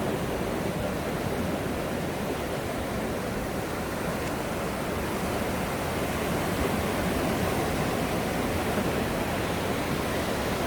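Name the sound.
ocean waves on beach, Bolivar Peninsula Texas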